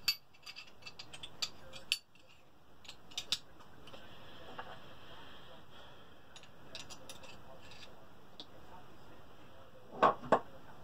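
A Sig Sauer P220 pistol has its mechanism worked during a function check after a loose sight repair. It gives sparse, sharp clicks and metallic ticks, with a couple of louder snaps near the end, over a quiet background.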